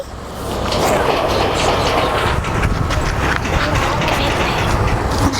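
A train rumbles past close by, passing under a bridge, a loud continuous clatter of wheels that swells in and holds steady.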